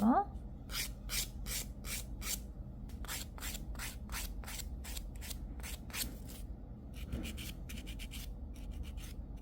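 A nail file rasps over polygel on a fingernail in quick rhythmic strokes, a run of crisp scrapes close to the mic, then a faster burst of short strokes near the end, with no voice.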